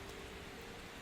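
Gentle rain falls as a dense, steady hiss in a dark ambient soundscape, even and unbroken throughout, with a faint low hum underneath.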